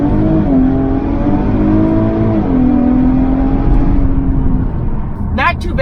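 A 2020 Infiniti Q50 Red Sport 400 launching from 0 to 60 in Sport Plus mode, engine droning loudly and climbing in pitch through gear changes, heard from inside the cabin, with a brief voice near the end.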